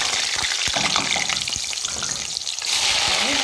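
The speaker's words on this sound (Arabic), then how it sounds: "والزيت اهو ابدأ ارص الكمية الباقية" Eggplant slices sizzling steadily in hot oil in a home kitchen, a dense continuous fry hiss with a few soft clinks as pieces are laid into the pan, close and fairly loud throughout.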